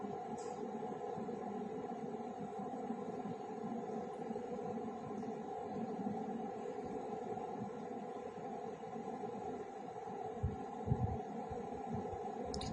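A sewing machine runs steadily while stitching the side seam of a frock, a continuous even humming whir with a faint throbbing rhythm and a few soft knocks near the end.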